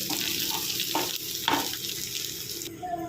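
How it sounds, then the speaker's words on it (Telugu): Prawns fry in hot oil with curry leaves and cumin, a continuous close sizzle broken by a few bursts of louder crackling and spatula stirs, no voices. "ఈ ప్రాన్స్ని అయితే ఇలా కరివేపాకు కూడా వేయించి కొంచెం జీలకర్ర కూడా వేసి ఇందులోనే ఆయిల్లోనే వేయించుకోవాలి"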